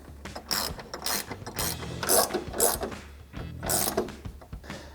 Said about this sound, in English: grab your 13 millimeter ratcheting wrench to tighten that back down